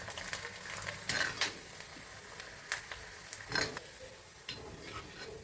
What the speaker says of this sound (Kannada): ಅವಲಕ್ಕಿ ಸಂಡಿಗೆ ಹಾಕ್ತಾ ಇದ್ದೀನಿ ನೋಡಿ